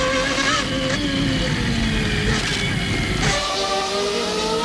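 Ferrari Formula 1 car of the 1994 season, a John Barnard design reworked by Gustav Brunner, racing at the Australian Grand Prix, its high engine whine rising and falling in pitch as it passes, loud and continuous with track ambience.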